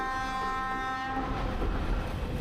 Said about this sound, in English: one completely destroyed passenger carriage hauled by an old Soviet-era locomotive that's more than 50 years old